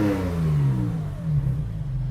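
Porsche GT4 engine with headers and muffler revving, a loud, buzzy exhaust note that sweeps up and then eases back down.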